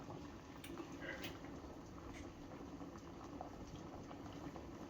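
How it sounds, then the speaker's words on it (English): Salted water boiling in a pot for pasta, a steady dense bubbling and simmering that stays even and close throughout, with occasional small pops and ticks on top. "Watch it boil. That salted water,"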